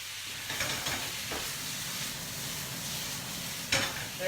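Stalks singe and sizzle in a hot pan in a kitchen, a quiet steady hiss and crackle with a few brief louder spits.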